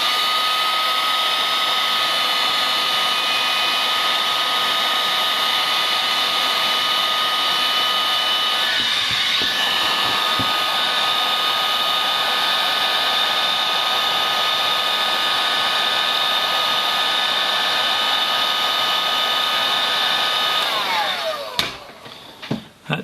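A hot air station blows steadily onto circuit board pads while desoldering an ECU board, a loud continuous hairdryer-like whoosh with a high whine that runs for about twenty seconds before cutting off.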